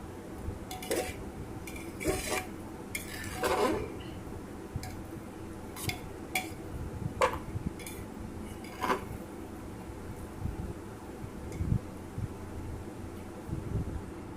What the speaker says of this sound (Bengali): এবার একটু গরম মশলাটা খুব সুন্দর করে মিশিয়ে দিতে হবে।